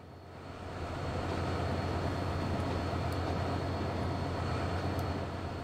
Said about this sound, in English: Oh, you're a Namath Stone train.